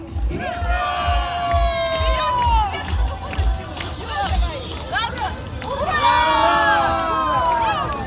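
Crowd at a Kazan fair parade in Malmyzh cheering and shouting loudly, with excited whoops and children's voices rising over continuous babble while an announcer's voice booms through the noise.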